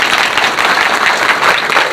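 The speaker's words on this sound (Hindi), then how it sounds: "नारी शक्ति के लिए जोरदार तालियां एक बार" A dense, loud crowd applauds women in the audience at a direct-selling business gathering, with continuous clapping close by and no voices.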